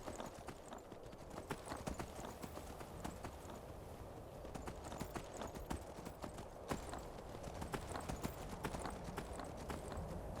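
Steady clip-clop of horse hooves at a walking rhythm in the video game Skyrim, continuous and fairly close, over a low background.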